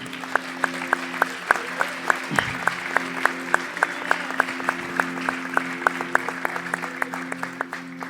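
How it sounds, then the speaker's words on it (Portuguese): A church congregation applauds during a Portuguese-language service, a sustained crowd clapping with sharp rhythmic claps standing out in a steady beat over a hum, loud and close. "dê um aplauso"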